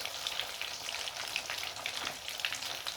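Potato roll cutlets frying in a pan, a close, steady crackling sizzle with soft spatters as they are flipped one by one.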